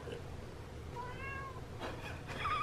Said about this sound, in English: there's a gray cat that's always around